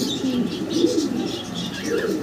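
Pigeons, including Spanish breeds, coo softly in a breeder's cage with low repeated calls and faint chirps over a steady murmur of background noise, close by.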